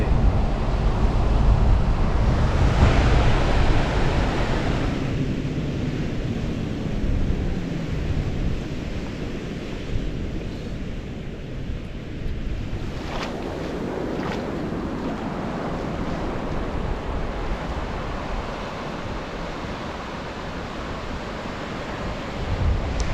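Strong wind buffets the microphone on an Esperance beach in Australia, mixed with a steady roar of surf, loud gusty rumbling throughout with a lull midway and no talking.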